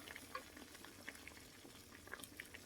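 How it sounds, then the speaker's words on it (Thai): Corn boiling in a rice cooker pot gives a soft, steady bubbling and simmering with scattered faint pops and ticks, low in level and continuous throughout. "ต้มข้าวโพดในหม้อข้าวค่ะ"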